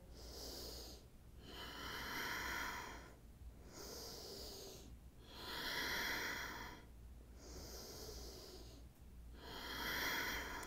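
Slow, deep breathing during a yoga stretch: about five rhythmic cycles of soft, airy inhales and exhales, close and quiet, with no talking.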